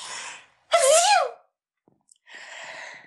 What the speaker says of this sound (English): You have such a cute sneeze.